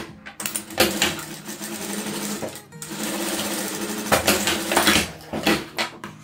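A sewing machine stitches a seam along a drawn line on fabric, running in a steady mechanical whir with short pauses and restarts, close and fairly loud.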